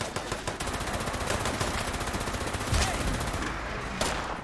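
Rapid automatic gunfire in Fallout 76, shooting a Brahmin amid super mutants, loud and sustained with dense overlapping bursts and a heavier shot near the end.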